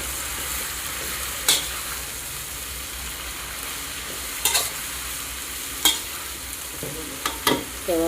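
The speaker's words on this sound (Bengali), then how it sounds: "এবার এটা 5 মিনিট ভাজতে হবে।" Cabbage with tomato frying in a pan for a Bengali cabbage mash, a steady low sizzle with a few sharp scraping stir clicks spread across the stretch, nearby and moderately loud with no talk.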